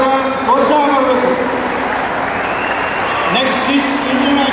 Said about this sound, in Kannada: ಎಲ್ಲರೂ ಚಪ್ಪಾಳೆ ಮೂಲಕ ಪ್ರೋತ್ಸಾಹ ಮಾಡಬೇಕು.